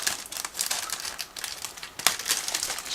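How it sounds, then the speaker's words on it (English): A sealed plastic bag from a Miniart 1/35 Tiran 4 Sharir model kit with dozer blade crinkles and rustles continuously as scissors cut it open, close and fairly quiet, with no talking. "we need to open this sealed plastic bag, so I'm going to use scissors in order to cut through"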